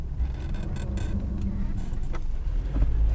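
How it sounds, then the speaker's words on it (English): A Peugeot's brakes grind from worn-out pads and discs, producing a continuous rough scraping and rumbling with scattered metallic rasps over low road noise. "Every time you put your foot on the brakes, this is the noise you get."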